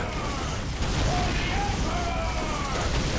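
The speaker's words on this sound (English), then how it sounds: "Explosions everywhere." Dense, continuous rumbling bursts of explosions in a strategy video game, with flamethrowers and heavy bolters, fill the whole stretch, loud and chaotic, with faint voices underneath.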